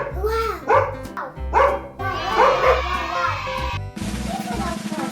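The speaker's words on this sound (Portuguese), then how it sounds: "Um cachorro. Escuta o barulhinho dele aí." A cartoon dog character from Peppa Pig gives a series of short, bright barks and yips over a looping music bed, loud and close, followed by a different animated sound near the end.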